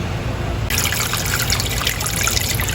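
Water pours steadily from a tap over freshly caught bangkalan crabs as they are washed, a close, continuous trickling splash with no speech.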